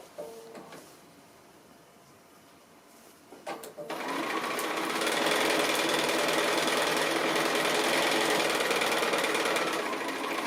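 A sewing machine stitches a quarter-inch seam around a quilted fabric jar opener, starting with a few short bursts and then running in a fast, steady mechanical whir, close and loud.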